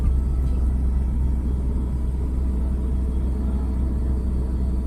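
A car moving steadily in second gear on a driving-school road, with a constant low engine rumble and hum held at an even level throughout, close and with no one talking.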